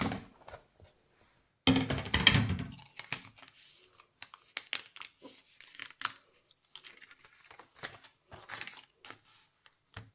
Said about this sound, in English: putting down my magnetic shim and running that through the die cut machine